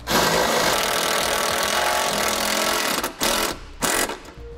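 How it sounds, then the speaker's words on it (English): Power driver running self-tapping screws into a solenoid mount on a 2018 Chevrolet, a loud close whirring buzz, continuous at first and then broken into short bursts with pauses near the end. "We'll stick it over those holes and we'll secure it with the provided self-tapping screws."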